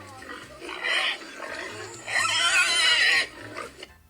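Pig oinking sound effect from a farm scene where pigs have broken through a gate into tomatoes: two loud squealing, grunting bursts, the second longer, heard alone.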